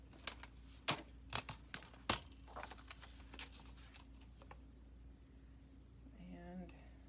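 Paper for a flip flop journal being trimmed with several crisp sharp snips close by in quick succession at the start, followed by fainter rustling and handling noises, with a brief faint voice near the end.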